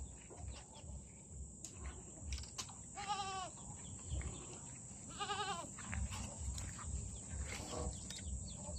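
Goats bleat on a rural farm in the Philippine province, a few wavering calls at intervals over a steady bed of chirping crickets and faint farmyard noise.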